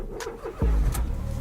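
A pink Smart car's small engine cranks and catches about halfway through, then settles into a loud, steady low idle close by.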